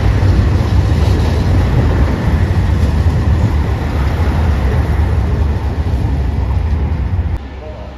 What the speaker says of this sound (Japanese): 黄色いアンパンマン機動車です。